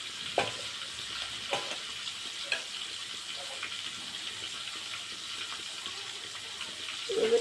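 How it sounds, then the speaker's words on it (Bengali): Fish heads fry in a pan with a steady, even hiss of hot oil. A few soft clinks sound early on, and a louder bubbling crackle comes at the very end, close and fairly quiet. "মাছের মাথাগুলো একটু লাল করে নেব।"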